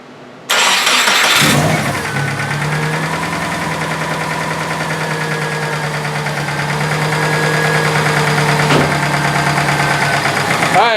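A Subaru engine with a knock cranks briefly, catches and settles into a steady idle with a faint rhythmic ticking, loud and close.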